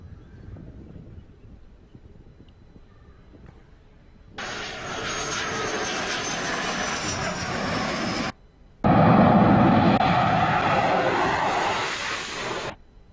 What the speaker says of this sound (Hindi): इसके बाद फाइटर जेट जगुआर और एंटोनोव AN-32 C-295 जैसे ट्रांसपोर्ट एयरक्राफ्ट ने लैंडिंग की।